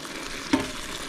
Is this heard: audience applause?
no